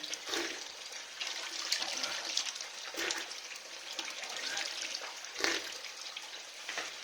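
Cold spring water runs from a tap at an old spring beside a centuries-old chinar tree, a steady hissing gush with a few louder splashes, heard close and alone.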